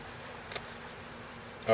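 Honeybees buzz around a newly set up hive. Their low, steady drone hangs faintly in the background, broken by a couple of brief closer passes.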